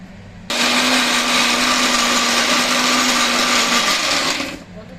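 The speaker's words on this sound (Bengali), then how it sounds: "এখন মিক্সার গ্রাইন্ডারে আমরা গ্রাইন্ড করব" Kitchen mixer grinder blending a cooled onion paste, a loud steady whirring motor roar that starts abruptly, holds for about four seconds, then winds down, with no talk over it.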